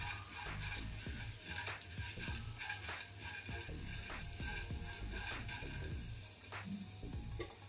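Chana dal, black peppercorns and cumin seeds dry-roasting in a pan, giving a steady close crackle with repeated scraping stirs throughout and no talk.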